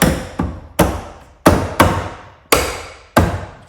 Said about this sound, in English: just knock them connections in,